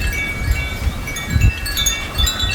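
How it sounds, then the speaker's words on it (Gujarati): Low, rumbling buffets of strong wind in cloudy weather hitting the microphone outdoors, gusting in a few surges over a brief stretch with no voices. "એકદમ ક્લાઉડી વેધર થઈ ગયું તો પવન એકદમ છે"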